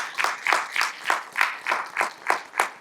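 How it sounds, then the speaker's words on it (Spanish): A church congregation claps together in a steady, even rhythm of about nine beats, moderately close and full, with no talking over it. "Podemos darle un aplauso al Señor"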